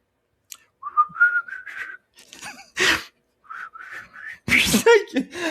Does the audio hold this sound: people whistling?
yes